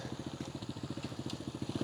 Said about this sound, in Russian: И женщина сейчас едет на мотоцикле